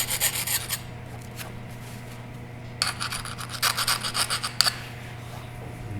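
A steel tactical tomahawk's beard and spike being sharpened, with a close rasping scrape in a few short bursts of rapid strokes over a steady low background hum.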